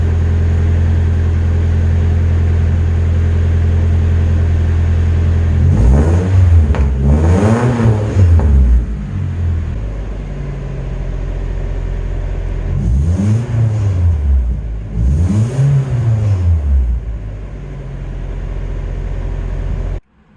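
A Nissan 240SX with a new exhaust system idles with a deep steady rumble, then revs up and down twice in quick pairs, each surge rising and falling, loud and close.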